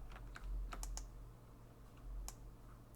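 Computer keyboard keys clack in light, irregular taps and short bursts, close and fairly quiet over a low steady hum, with no talking.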